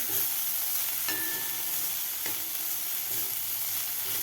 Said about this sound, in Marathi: तर ब्रोकोली 1 मिनिटभर आपल्याला बटरमध्ये फ्राय करून घ्यायचे आहे.